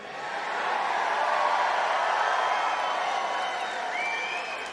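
A crowd at the 2024 NRA Presidential Forum in Harrisburg cheers and applauds in a steady, moderately loud wash of clapping and whoops that swells and then eases slightly.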